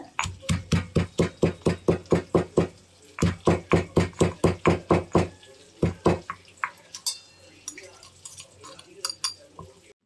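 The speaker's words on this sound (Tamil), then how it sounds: "ரெண்டு பச்சை மிளகா சேர்த்துட்டு மறுபடியும் இதை தட்டிக்கோங்க" Green chillies and dried red chilli pounded with spices in a mortar for village-style raw tamarind rasam: a steady run of sharp, loud thuds in quick rhythm, pausing briefly, then resuming more sparsely, with soft kitchen clatter after.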